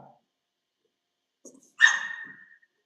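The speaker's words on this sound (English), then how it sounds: "Can you hear the voice of the puppy?" A puppy gives a single short, high-pitched bark, fairly close and otherwise alone in near silence, preceded by a faint soft sound.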